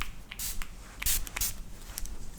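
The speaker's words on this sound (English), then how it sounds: "Now I spray it." A makeup setting spray hisses at close range in several short, uneven bursts with faint handling sounds between them.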